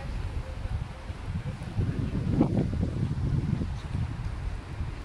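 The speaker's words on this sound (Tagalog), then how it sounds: "Windy siya guys. Windy." Wind blows outdoors in a steady low rumble of buffeting against the microphone, continuous and fairly loud with no voices.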